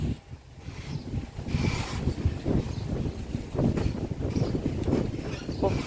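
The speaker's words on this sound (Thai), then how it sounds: "ลมแห้งอย่างนี้" Dry wind blows outdoors, buffeting the microphone in uneven low gusts that rise and fall throughout.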